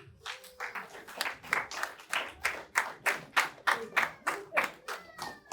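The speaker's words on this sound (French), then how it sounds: "Applaudissez pour elle aussi." Rhythmic clapping from a group, steady beats roughly twice a second, fairly close, with faint voices underneath.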